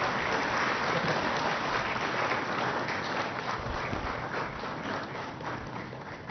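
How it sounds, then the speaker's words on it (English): Sustained applause from a gathering at a high court advocates association guest lecture during a memento presentation, a dense, steady wash of many hands clapping throughout, loud and even, with no voices on top. "Have a big applause."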